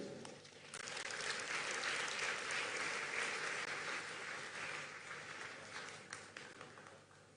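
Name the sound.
audience applause at a climate summit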